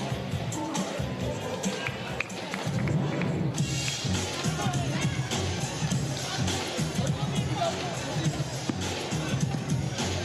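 Fans at a women's basketball game between the Perth Lynx and UC Capitals cheer and shout in a busy arena, a loud, uneven roar of voices with scattered yells and bursts throughout.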